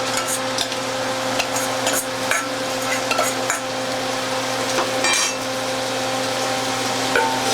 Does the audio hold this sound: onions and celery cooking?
yes